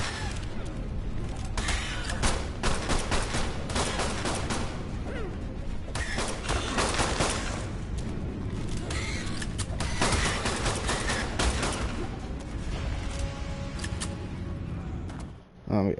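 Gunfire in Ark Survival Evolved comes in dense bursts of sharp shots, loud and continuous across the stretch, with brief lulls and a voice talking over the action.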